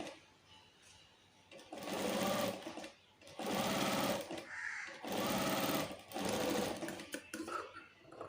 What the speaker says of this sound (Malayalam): ഇവിടെ ജോയിൻ ചെയ്യുമ്പോൾ ലോങ് സ്റ്റിച്ച് ഇട്ടിട്ട് തയ്ക്കുക.